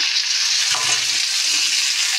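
Small puti fish dropped into a pan of fried onion and garlic, loud steady sizzling hiss throughout with a brief burst of spatter and stirring as the fish go in, close and without talk.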